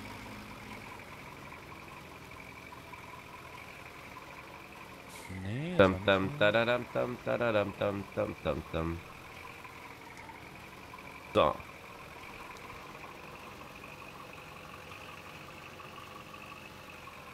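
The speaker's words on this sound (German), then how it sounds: "Der Deutz-Traktor ist auch schön" Deutz tractor engine in Farming Simulator 15 idles with a steady low hum, broken midway by a burst of rapid knocking revs and a later single thump, while people talk over it.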